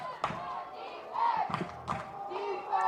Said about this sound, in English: Crowd getting loud again.